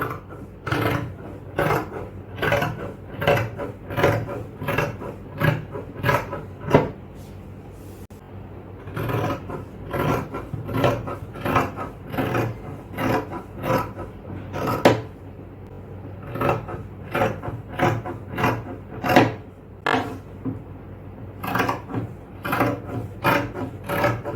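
Scissors cutting fabric for a child's frock, a steady run of close, crisp snips repeating every fraction of a second with brief pauses as the blades reposition.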